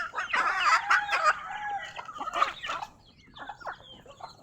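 Native chickens in a backyard flock, with a rooster crowing loudly up close and hens clucking around it, the crowing fading into scattered softer clucks.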